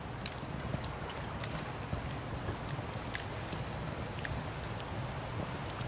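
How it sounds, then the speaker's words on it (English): Steady heavy rain in the video game Rising World pours continuously, with scattered sharper drops pattering on a surface close by, no voices. "And it's pouring the rain again."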